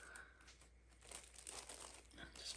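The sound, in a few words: paper crinkling as it is patted onto canvas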